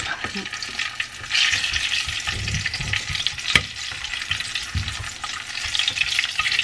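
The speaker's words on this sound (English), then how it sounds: "now we're adding the cinnamon stick, which is right here, and then the orange peel. So we're gonna fry that up really quick." Cinnamon stick and orange peel fry in a pan with a steady close sizzle, while a utensil stirs and scrapes through it in irregular strokes and one sharp knock sounds partway through.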